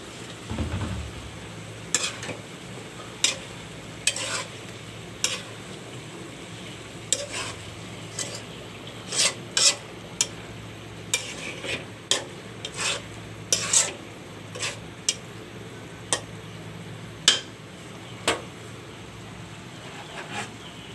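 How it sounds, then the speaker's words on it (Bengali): Taro stems cooking with dried fish after potatoes are added: a soft continuous sizzle under repeated sharp scrapes and clinks of a spoon stirring in the pan, irregular and close, with no talk. "দেখুন ডাটাগুলি খুব সুন্দর মিলে গেছে এখন আমি এর মধ্যে একটু আলু দিয়ে দিব"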